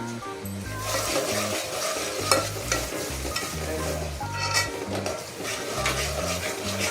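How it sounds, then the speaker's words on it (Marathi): Misal masala stirred into hot oil for a spicy Satara-style misal, with steady sizzling frying and scraping stir strokes close up, continuous throughout and no voices. "तेल सुटल्यानंतर आता मिसळ मसाला टाकायचा आहे त्याच्यामध्ये।"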